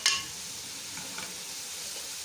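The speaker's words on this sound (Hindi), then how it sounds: "थोड़ी सी दरमियानी आंच करके मसाले के अंदर इसको भूनना है" Desi chicken being roasted in masala with salt and turmeric in a pan over medium heat, with a steady close sizzle and a brief stirring scrape at the start.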